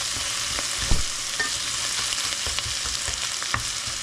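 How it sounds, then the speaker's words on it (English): Fresh garlic fries in a pan for a tofu and tomato-sauce stew, giving a steady, dense sizzle with occasional soft stirring knocks and scrapes, close and alone without any voices. "Just 2 tablespoons of fresh garlic."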